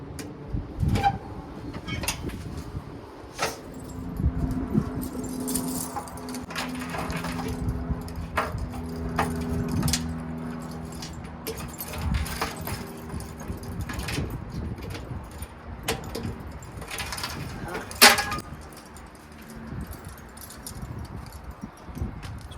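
Keys jangle and clink in a bunch while someone hunts for the right one for a Bolens lawn tractor with a 15.5 HP Briggs engine, with scattered metallic rattles, taps and handling noises, fairly close, amid outdoor background sound.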